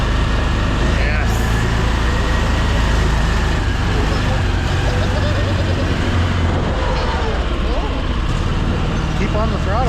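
A vehicle engine revs hard under full throttle on a rough course at the HayDays event, droning loudly and steadily with rising and falling pitch sweeps near the end, as a voice speaks over it.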